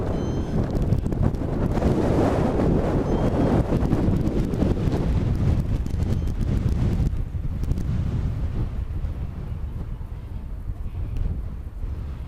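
Strong wind buffeting the microphone on a ridge at a hang glider launch, a loud continuous roar that eases off in the second half, no clear talk.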